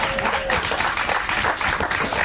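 Audience applause after someone describes making a little boot out of a napkin, a dense, steady burst of clapping filling the whole stretch at even loudness.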